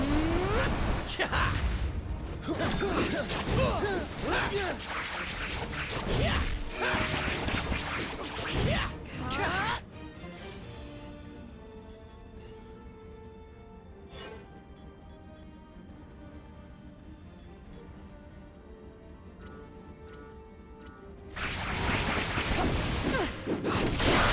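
Venom Blast attack effects in a fighting video game burst out as loud smashing, whooshing hits, then drop to quieter ringing tones before another heavy flurry returns at the end; a voice talks over parts of it.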